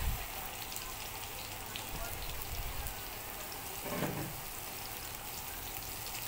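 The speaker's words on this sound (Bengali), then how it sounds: "প্রথমে আলুটা দিয়ে একটু নাড়াচাড়া করে নেব" Potato pieces hit hot oil in a frying pan and are stirred while cooking a Bengali pumpkin and chickpea curry, giving a soft, steady sizzle with a brief scraping stir midway.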